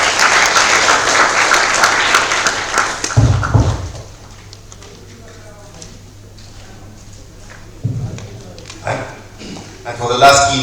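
A conference audience applauds loudly for the first few seconds. The clapping then fades into quieter room noise broken by thumps and faint scattered sounds.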